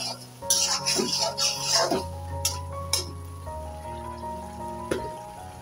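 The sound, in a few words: frying spice paste with turmeric, chili and coriander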